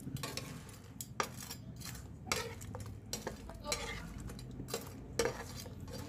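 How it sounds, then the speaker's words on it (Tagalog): Fried CDO crispy burger is stirred in a pan of butter, honey and soy sauce, giving repeated bursts of scraping and clinking at an irregular rhythm over a soft sizzle. "Itong ating crispy fried na CDO. Then, haluin lang natin siya."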